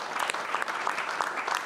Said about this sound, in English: So maybe we can get a big round of applause for them for taking the initiative to organize this.